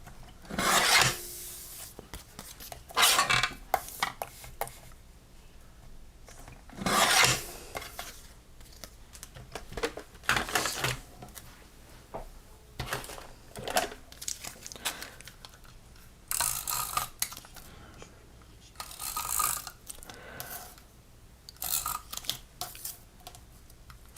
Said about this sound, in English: Let me trim each edge off a little bit.